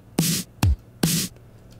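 Three short synthesized drum hits from a Teenage Engineering OP-1 with its LFO switched off, sounding as a noisy snare-like burst, a deep kick-like thump, then another snare-like burst, dry and close, with silence between.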